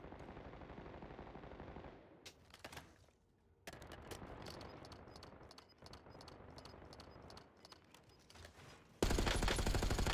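Automatic gunfire from a video game weapon crackles in rapid bursts, broken by a short quiet gap, then resumes as dense rattling fire and ends in a loud, noisy blast.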